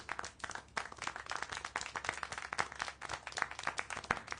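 Steady hand clapping in the Dead by Daylight horror video game, a rapid, uneven run of sharp claps that stays faint and continuous throughout, with no voices.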